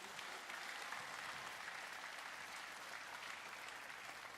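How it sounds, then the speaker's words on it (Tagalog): A church congregation applauding in praise of God, a continuous, even roar of many hands clapping, heard somewhat distant and moderately quiet without any voices on top. "Atong hatagag kusog nga palakpak ang Dios sana."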